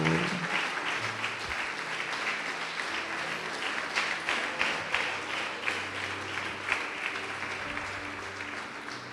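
A church congregation applauding during a sermon, sustained crowd clapping with faint voices and tones underneath, continuous for about nine seconds.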